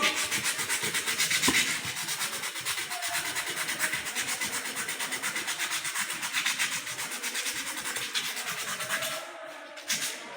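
Sandpaper rubbed by hand over a rusty, rough steel surface, a steady gritty scraping with a rapid back-and-forth rhythm, close and continuous, easing off near the end.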